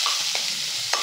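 Two onions frying with cinnamon, cloves, cardamom and a bay leaf in hot oil, cooking to golden brown for a vegetable vermicelli pulao, a close steady sizzle with short scraping stirs of a spoon.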